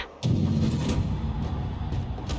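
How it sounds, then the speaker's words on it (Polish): A heavy booming explosion of a generator in the video game Sniper Ghost Warrior 3 bursts in after a brief quiet moment, followed by a sustained low rumbling roar with scattered crackles. "Wybuchł jeden generator, może nawet więcej."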